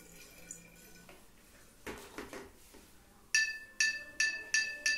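Water poured into a glass bottle that serves as a homemade musical instrument, with a few soft splashes followed by a run of five bright, ringing clinks close by, no talk.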